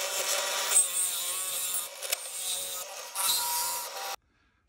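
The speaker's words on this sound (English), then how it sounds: "I have my 4 holes drilled for my 4 1-quart jars to go in" A drill bores holes through a wooden board for a hive-top bee feeder meant to hold quart jars: loud rasping, grinding bursts with brief pauses, then the sound cuts off abruptly.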